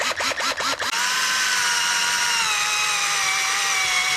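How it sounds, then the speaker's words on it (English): A power drill boring a hole behind the headlight of a Harley Sportster S to mount a signal light, a few short bursts followed by a steady, loud, close high-pitched whine as the bit bites in. "That's where we're going to have to drill through."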